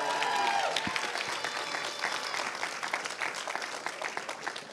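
A church congregation claps and cheers for Megan, a full round of applause that starts strong and gradually thins out, with a brief voice at the start.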